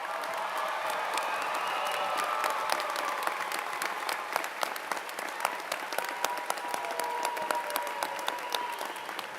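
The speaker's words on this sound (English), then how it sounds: "please join with me as we honor all these graduates with a well-deserved round of applause." A large audience at a fall commencement ceremony gives graduates sustained applause, dense clapping building and holding steady throughout with sharper individual claps standing out near the end.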